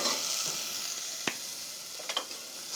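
Chopped onions frying with salt in a hot pan, giving a steady soft sizzle with a few brief stirring clicks and scrapes partway through, close and fairly quiet.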